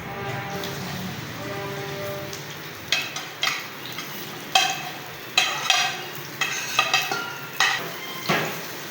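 Sliced onions dropped into about a cup of hot cooking oil for biryani hiss and sizzle, with a steady crackle broken by several sharp stirring scrapes and spatters that grow busier through the second half.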